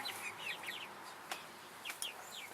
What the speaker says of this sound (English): Isn't he a pretty bird?